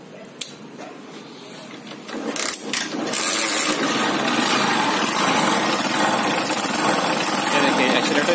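Small petrol engine with a tight carburettor that won't hold idle, started up and revving: a brief starter rattle, then a loud steady high-pitched buzzing run, close by, with someone talking over it.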